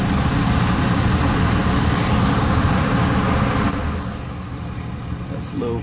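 An evaporative cooler fan on its high setting roars as a steady, loud, broad whoosh that eases slightly near the end.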